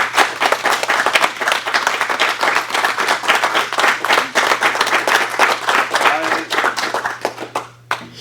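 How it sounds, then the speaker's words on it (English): Enthusiastic round of applause from an audience, many hands clapping close and loud in a dense, continuous patter that stays strong for several seconds before easing off at the end. "Let's give Pepper a huge round of applause."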